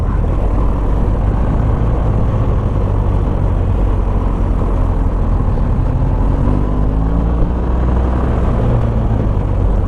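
A BMW GS motorcycle pulls out to overtake on a safari ride, its steady, loud engine rumble with wind roar building as the revs rise toward the end.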